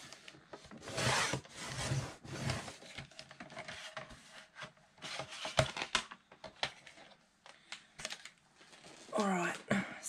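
Cardboard packaging for a junk journal cover is trimmed along its bottom edge, giving close, dry rasping cuts in short bursts with pauses between, and a voice speaks briefly under the cutting.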